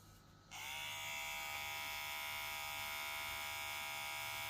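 Kemei 6374 hair clipper switching on and running at its second speed, a sharp start followed by a steady, close, high-pitched electric buzz.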